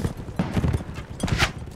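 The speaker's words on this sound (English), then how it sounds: "Oh, this horse is much faster." Horse hooves beat out a quick gallop in Mount & Blade: With Fire and Sword, a few close, rhythmic clip-clop thuds over battle ambience, with a brief voice near the end.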